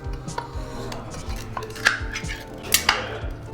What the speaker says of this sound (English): I'm gonna crack this can.